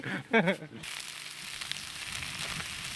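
A frying pan heats on a stove during a trip living in a car in Teriberka in the Russian north. A brief voice comes first, then a steady, moderate hiss of sizzling fills the rest.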